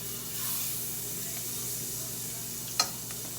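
Butter sizzles faintly in a hot pan, a steady soft hiss with one brief sharper crackle near the end.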